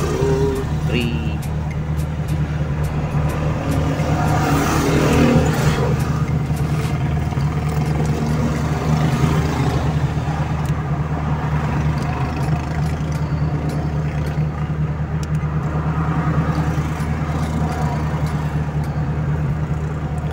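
A carbureted 4AF engine in a Toyota Corolla runs at a steady fast idle with a constant low hum throughout, while someone talks over it.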